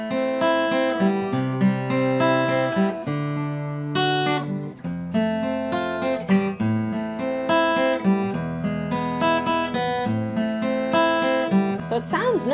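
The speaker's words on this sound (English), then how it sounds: "if I just played through the intro on just the arpeggios without the special technique," Guitar picking through the arpeggiated intro of House of the Rising Sun, played without any special technique: steady broken chords ring out continuously at a moderate, even level, with no talking.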